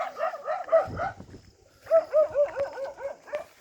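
A dog barks during a snake rescue on a G.T.T.C college campus: two close, loud bursts of several sharp, yelping barks separated by a brief pause, with no talk.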